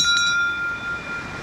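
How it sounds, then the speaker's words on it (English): A small bell rung by a visitor along cobbled lanes in the Japanese post town of Magomejuku, giving a bright sustained ring with a lingering tone that fades slowly, close and fairly loud, with no talking. "Got another bell here."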